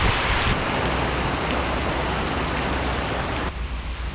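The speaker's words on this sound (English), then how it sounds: "Waiting for the rain to end." Heavy tropical rain pours steadily in North Vietnam, a dense, loud, continuous hiss with no pauses and no voices.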